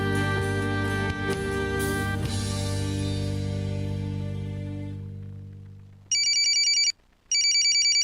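A telephone sounds two bright electronic ringing bursts with a short pause between them. Before the ringing, a sustained musical tone slowly fades out, and no one speaks.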